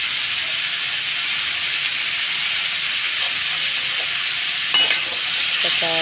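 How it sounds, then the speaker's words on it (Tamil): A ladle stirs a brinjal, bottle gourd and chickpea kuzhambu curry as it cooks in a pan, giving a steady close sizzle and hiss with a few brief scraping clinks near the end. "கரண்டி வச்சு நல்லா கிளறி விடணும்"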